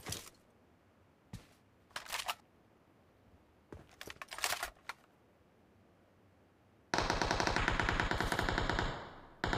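Gunfire in a battle royale shooter: scattered single shots and short bursts, then a long sustained loud automatic burst near the end, sharp and close against a quiet background.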